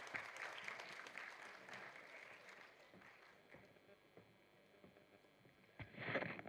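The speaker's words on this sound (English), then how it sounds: "Please clap for him." An audience at a BRICS Youth Council entrepreneurship event at a college claps for an invited speaker, a soft patter that gradually fades and then swells briefly near the end, heard at a distance.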